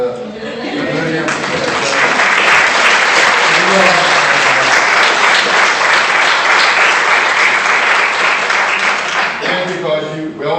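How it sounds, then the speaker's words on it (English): Loud, dense applause from an audience welcoming graduates at the EDSU-Legacy Class of 2017 graduation ceremony, swelling quickly and holding steady for about ten seconds before tapering, with a voice talking briefly at the start and end. "give them a hand of applause"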